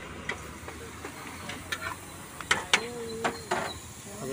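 Onions, tomatoes and capsicum sautéing in Amul butter at a Noida Maggi stall, a soft steady sizzle broken by scattered metallic clinks and scraping taps of a spatula stirring in the pan.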